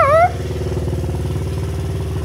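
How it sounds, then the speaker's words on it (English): A small 50cc motorcycle with a big, loud cannon exhaust doing burnouts, its engine running hard and close with a steady, throbbing pulse after a brief higher whine at the start. "we're doing burnouts on his 50 with his big fat cannon exhaust"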